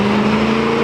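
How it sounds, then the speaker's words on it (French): A Ford Mustang goes by on the street, a steady close engine drone with a strong low tone that holds even through the short pass, loud and with no talk over it. "Là, il y a un Mustang qui passe."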